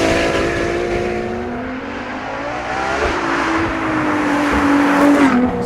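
A Ferrari LaFerrari with a 950bhp engine slides around the Fiorano circuit, its engine note rising and falling close by as the tyres squeal through the slide, loud and unbroken with no voices.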